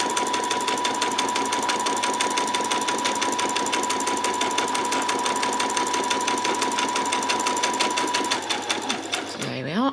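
A sewing machine runs continuously, stitching fabric for a peasant top: a fast, even mechanical chatter that stays loud and close before slowing briefly at the end.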